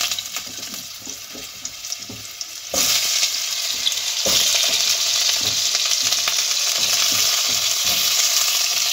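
Potatoes dropped into hot oil with tempered spices for a vegetarian kohlrabi curry, a steady sizzle that jumps louder midway as they hit the pan, with light stirring and scraping clicks throughout.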